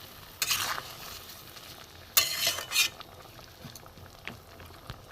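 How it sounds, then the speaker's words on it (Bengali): Spoon scraping and stirring through milk potol curry with potato in a pan, a few short clattering bursts against a low simmering bubble, close and clear with no talk. "একটু ভালো করে নেড়ে দিলাম।"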